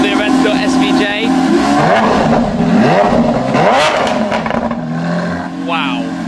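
A Lamborghini Aventador SVJ with its V12 engine fires up and revs loudly at close range, rising and falling sharply, while people talk nearby.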